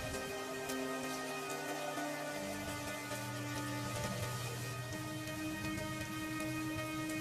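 Heavy rain falls during a storm over a village, a faint, steady hiss running without a break beneath sustained musical tones.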